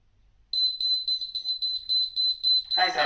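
An LP gas leak alarm under an operation test starts sharply and sounds a loud, piercing electronic tone in regular rapid pulses, with a voice speaking over it at the end.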